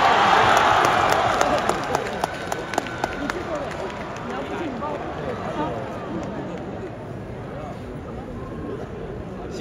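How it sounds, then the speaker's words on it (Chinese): A theater audience claps and cheers for two crosstalk comedians taking the stage, a loud dense wash of applause with crowd murmur that gradually thins and softens. "谢谢大家伙热情的掌声"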